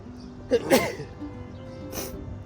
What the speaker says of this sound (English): there's a sneeze and a sniffle